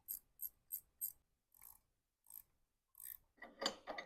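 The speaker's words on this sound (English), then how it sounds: "Will the ratchet wrench fit?" A ratchet wrench clicks in quick bursts on a 1989 Harley-Davidson Evo Softail during a rear fender and breather restoration, with four sharp clicks, a pause, then a few more and a louder clatter, close and quiet.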